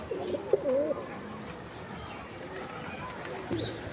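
Soft cooing from high-flying Giribaz pigeons, a few short warbling coos at the start and one more near the end, fairly faint against steady background hiss.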